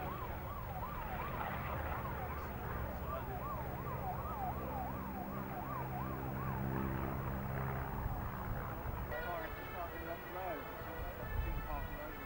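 Wailing police car siren at a 1995 VE Day air show at Duxford, rising and falling repeatedly over crowd and engine noise, fairly distant, with people talking nearby.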